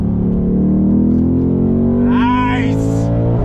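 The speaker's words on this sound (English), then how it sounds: "On the brakes, feeling good, downshifting." A 2021 Ford Mustang Mach 1 engine drones and revs with shifting pitch while braking and downshifting, close and loud, while a voice speaks over it.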